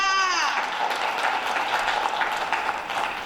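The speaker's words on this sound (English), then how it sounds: "So please again give yourself a round of applause for being here." A youth gathering's audience breaks into applause, a continuous bed of many hands clapping at a fairly steady level, right after a voice trails off at the very start.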